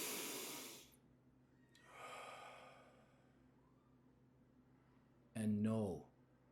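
A person breathes slowly and audibly, with two long, airy exhales separated by quiet pauses, followed by a brief louder, voiced sigh or snort close to the microphone.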